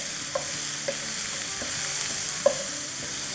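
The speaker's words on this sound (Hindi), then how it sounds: "चूँकि हमारा पैन गरम था, इसलिए बहुत जल्दी सौटे हो जाएगी।" Diced onions with a pinch of salt sautéing in a hot pan, a steady close sizzle with occasional light clicks of stirring and no voices.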